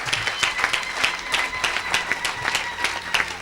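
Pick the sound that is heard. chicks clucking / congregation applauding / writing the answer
congregation applauding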